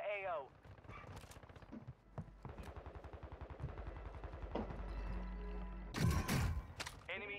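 Video game gunfire, a rapid stuttering stream of automatic shots mixed with mechanical clicks and thumps, ending in a louder burst, with a player talking over the action.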